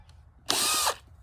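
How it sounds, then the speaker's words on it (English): A power drill runs in one steady, loud half-second burst, starting abruptly and cutting off cleanly while someone puts together an indoor herb garden kit gift. "So let's talk about how to use a drill real quick."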